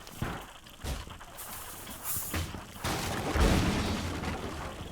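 A deep boom from an explosion in Rainbow Six: Siege rolls out, followed by a sustained, rumbling blast of noise with scattered pops and crackles.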